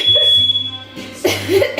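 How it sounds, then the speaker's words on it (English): A kitchen smoke alarm set off by burnt sausages, a high steady electronic tone that cuts out midway, followed by a cough and brief voices nearby. "Now the fire alarm's going off because she burnt the sausages."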